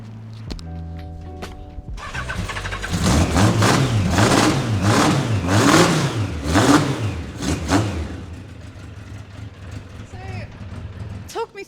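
A race car's Yamaha XJR 1250 engine revs up loudly and roars through several rising and falling surges, then settles back toward a steady idle.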